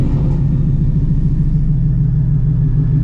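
A 900-horsepower Shelby GT350 with a new twin-disc clutch being driven: a loud, steady low engine rumble drones from inside the cabin without letup.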